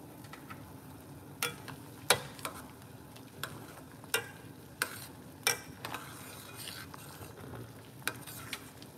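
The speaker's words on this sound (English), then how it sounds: "This is boiling up." An onion, cloves and honey mixture simmers on a cooker, a soft steady bubbling hiss with scattered sharp clicks and taps of a utensil against the pot, quiet and close.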